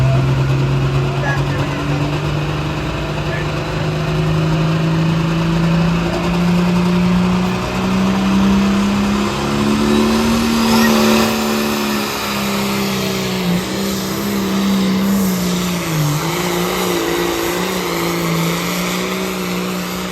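A pulling tractor roars down the track at a tractor pull, its engine a loud sustained drone that rises and bends in pitch midway, with an announcer talking over it throughout.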